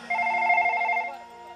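A telephone rings with a steady electronic trill, loud and close, for about a second before fading, with no talk over it.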